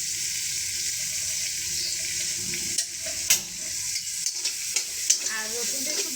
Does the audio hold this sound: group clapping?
no